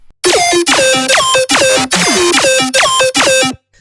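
Future riddim synth lead, heavily distorted and saturated and tightly EQed, playing about eight punchy, bright stabs in a choppy rhythm, each with a downward pitch bend, loud and alone before stopping abruptly.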